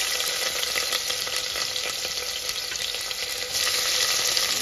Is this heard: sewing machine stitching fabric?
no